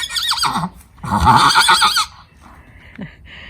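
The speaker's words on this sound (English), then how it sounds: "She's calling to her other horse friends." A horse neighs loudly and close, two strong whinnies calling out to other horses, with a fainter shorter call near the end.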